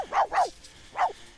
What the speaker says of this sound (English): we're gonna add a pet. That's a dog.